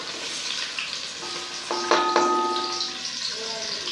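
Onions fry in hot oil in a pot for masala gobhi, giving a loud, continuous close sizzle with a few brief clinks of a utensil partway through.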